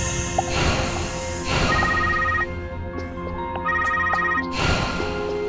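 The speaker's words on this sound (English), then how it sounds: "Then the phone rang unexpectedly." Telephone ringing in Surface: Game of Gods, two electronic ring bursts repeating over a steady backdrop of game ambience, clear and close.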